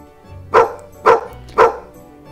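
A dog gives three evenly spaced, close, loud barks about half a second apart, with a quiet background and no talking.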